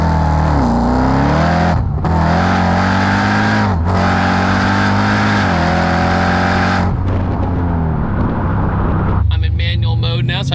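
An 805 wheel-horsepower Jeep Trackhawk engine revs loud and close, holding a steady roar with brief dips between gear changes, then settling into a lower drone with a voice speaking over it.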